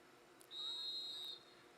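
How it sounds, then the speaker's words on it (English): A referee's whistle opens a varsity girls' soccer match: one sustained high-pitched blast lasting under a second, clear above a quiet background. "There's the whistle"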